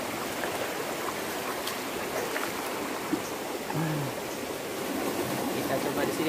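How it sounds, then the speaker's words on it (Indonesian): A small river runs along the edge of a forest with a steady, even rushing of water. The hiss is continuous and fairly close, with no distinct splashes standing out. "Sungai kecil."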